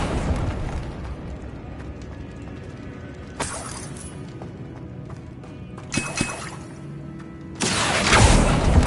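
Confringo fire-blast spell cast in Hogwarts Legacy, heard as several bright, crackling bursts with hissing sizzle, the final one loudest and longest, over low ambient game background.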